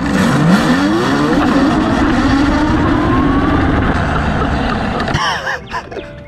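Children's ride-on toy fitted with dual electric motors accelerating hard, a loud, close rising whine with a climbing pitch sweep that holds steady before cutting off abruptly near the end.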